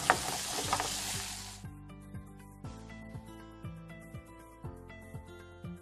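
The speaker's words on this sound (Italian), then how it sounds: "la nostra acqua sta bollendo" A brief hiss of water boiling vigorously in a pot for rigatoni, then music with plucked, steady notes takes over for the rest.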